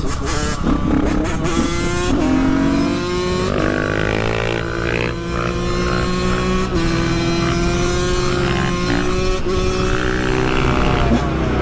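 A KTM 500 EXC-F dirt bike with an FMF aftermarket exhaust revs and accelerates through several gear changes, its loud raspy note rising and dropping, close by and without speech.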